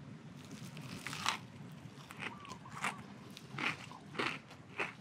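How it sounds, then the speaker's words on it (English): Crunchy bites into a fried fish sandwich made from a spearfished catch, several sharp crackling crunches spaced about a second apart, close and fairly soft with chewing between them. "Check out this crunch, guys."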